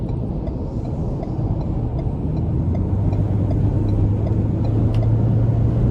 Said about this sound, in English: The sound that you get from the engine bay is phenomenal.